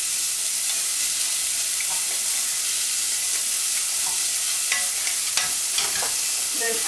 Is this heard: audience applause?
no